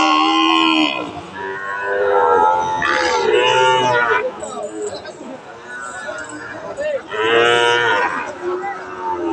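Cattle moo loudly several times at a cattle market in Dinajpur, long drawn-out calls close by, with faint voices in the background.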